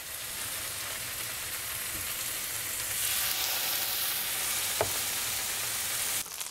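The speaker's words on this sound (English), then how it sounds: "My pan is nice and hot, so we're gonna go ahead and sear that salmon." Salmon sears in a hot pan, giving a steady, close hiss of sizzling oil with one brief tap partway through and no voices.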